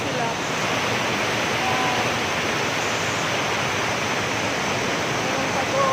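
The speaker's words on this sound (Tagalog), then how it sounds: "ako ngayon sa may waterfalls dito sa aming lugar." A waterfall in a rural area roars as a steady, dense broadband rush, close and unbroken throughout.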